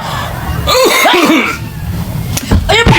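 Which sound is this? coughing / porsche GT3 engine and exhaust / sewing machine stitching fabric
coughing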